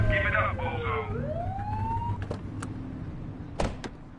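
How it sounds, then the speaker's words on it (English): Police car siren blipped in the video game The Precinct: a short rising and falling electronic whoop, loud and close, followed by a few sharp clunks and thumps under steady street noise. "Get behind them and blip the siren to make them pull over"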